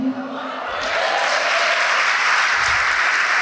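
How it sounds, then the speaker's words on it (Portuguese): A church congregation bursts into applause, building from scattered claps into a loud, sustained wash of many hands clapping together, close and filling the room, with a voice briefly audible at the start. "Vamos aplaudir mais ao nome de Jesus."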